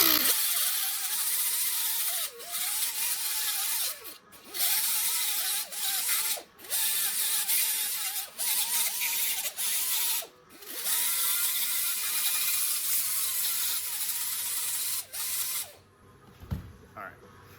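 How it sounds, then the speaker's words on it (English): A grinder scours rust from a brake rotor surface on a 2018 Subaru Outback rear brake, a loud close whine in repeated bursts with brief pauses between passes, its pitch dipping as it bites, then stopping near the end. "be light with your grinding. Just get the rust."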